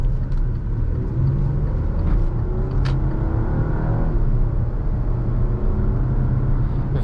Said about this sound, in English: just such a silky smooth engine, really quiet